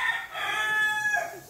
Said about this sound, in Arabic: الديك بتاعنا علق مفيش كنترول خلاص